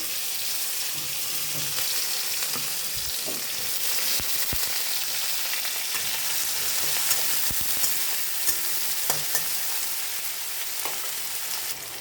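White cumin, chopped onion and green chili sizzle in hot oil in a pan, a dense steady crackle with occasional spoon stirs and clinks, close and continuous.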